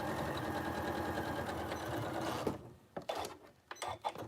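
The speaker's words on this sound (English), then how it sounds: "I don't remember how to use my sewing machine." A home sewing machine stitching fabric for pajama pants: a fast, steady mechanical whir and rattle running continuously, then stopping and leaving a few scattered clicks and handling knocks.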